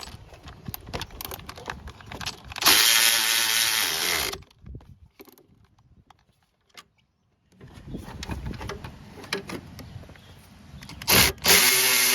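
Bolts being tightened by power tool on a 2002–2006 Toyota Camry V6 alternator, with two loud close bursts of whirring drill noise separated by quiet handling clatter, no talk.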